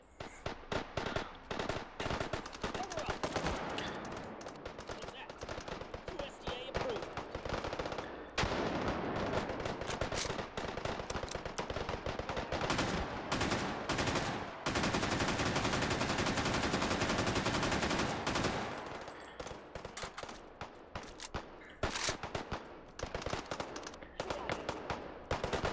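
An FAL rifle fires in the VR shooting game Hot Dogs, Horseshoes & Hand Grenades, loud rapid bursts and sustained automatic strings of gunshots, close and harsh, with brief gaps between volleys.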